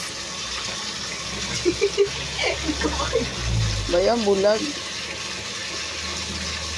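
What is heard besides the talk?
running tap water while washing a knife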